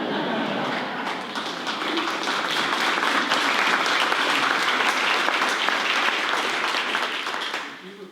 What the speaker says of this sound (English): Okay, or just clap.